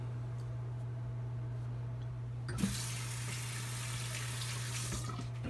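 Tap water starts running partway through and keeps up a steady, close splashing rush into a sink while a shaving soap is lathered with a badger brush.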